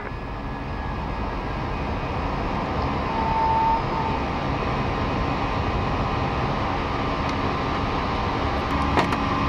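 A steady, loud, broadband roar of engines on a Vueling A320-200 as it takes off from runway 25, heard from inside the aircraft with no speech.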